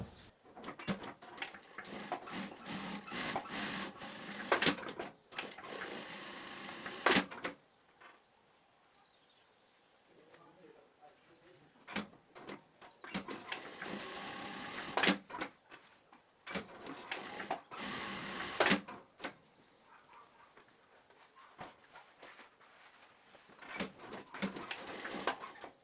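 Industrial straight-stitch sewing machine stitching women's trousers, running in repeated loud mechanical bursts of several seconds each, separated by short quiet pauses.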